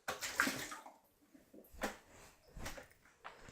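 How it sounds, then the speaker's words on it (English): Water is poured out of an Anycubic Photon resin printer tray in a few short splashing pours separated by pauses, quiet and close, with no talking. "So what I'm going to do now is empty the water out"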